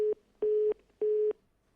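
A telephone busy tone from a disconnected line sounds as three evenly spaced, steady beeps with short silent gaps, clear and alone.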